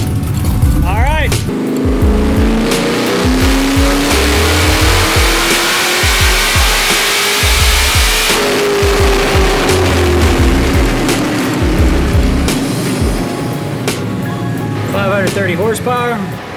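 A Texas Speed-powered Chevy C10 squarebody V8 on a dyno runs a loud, sustained power pull, revs climbing steadily over about eight seconds, then falling back and settling, with a fan roaring throughout.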